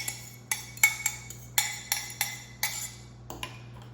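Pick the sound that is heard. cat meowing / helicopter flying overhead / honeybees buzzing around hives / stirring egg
stirring egg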